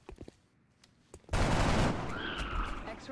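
Gunfire in the turn-based strategy game XCOM: Enemy Unknown, a loud sustained burst of shots lasting over a second after a few faint clicks, with the noise tailing off under a brief higher tone.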